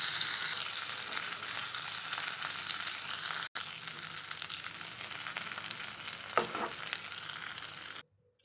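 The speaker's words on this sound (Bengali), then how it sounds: "মাছগুলো আমি সব দিয়ে নিয়েছি, এবারে ভেজে নেব।" Prawns frying in hot oil for a prawn gravy, giving a steady, loud, dense sizzle with a brief break partway through and a faint clink near the end, with no talk.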